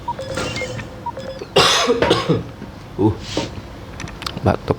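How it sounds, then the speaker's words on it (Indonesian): A dry cough from a man who has just eaten spicy food, heard as a few sharp bursts close to the microphone amid other noise and background sound. "batuk gue, batuk kering ya kan."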